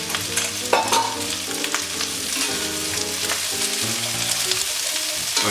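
Onions and leeks frying in a pot with chicken, a loud continuous sizzle with stirring scrapes, close and steady throughout, no voices.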